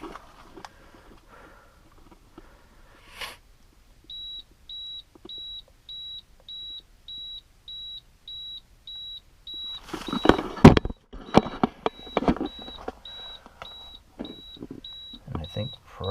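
A house water filter UV system beeps in a steady series of short electronic beeps at an even pace during a restart, then continues faintly under clattering and handling noises.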